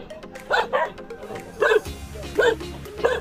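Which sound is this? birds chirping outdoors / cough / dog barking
dog barking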